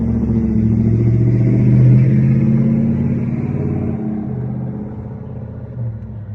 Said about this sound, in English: Wait for this truck to pass by.